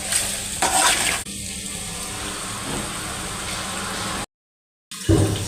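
Chicken sizzles in oil in a pan for biryani, a steady hissing fry with brief stirring scrapes, continuous and fairly close, cutting out for a moment near the end before resuming.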